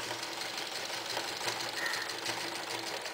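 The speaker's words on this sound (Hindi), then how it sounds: "हम सिलाई मशीन से कर रहे हैं" A sewing machine stitches a floor mat made from an old sari, its needle running in a fast, even mechanical rattle close by with no pauses.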